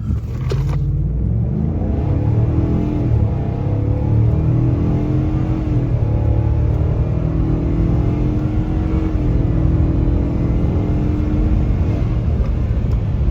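A 2023 Ford F350 7.3-litre gas V8 pickup engine roars loud and steady, pitch climbing gradually as it accelerates hard under load, with a constant low rumble throughout.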